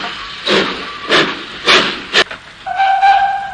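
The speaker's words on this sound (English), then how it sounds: "Then the driver pulled the lever and Edward puffed away." A steam locomotive from The Three Railway Engines sets off, giving four loud, hissing puffs of steam at a slow, uneven pace, then a sustained steam whistle sounds at the end.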